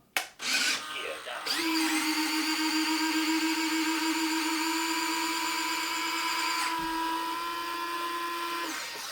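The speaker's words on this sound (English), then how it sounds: "let's go ahead and bring the landing gear back down" Landing gear of a Pilot-RC 1/8 scale F-16 RC jet being lowered: a steady electric servo whine, close and continuous for about seven seconds, after a brief click and start-up.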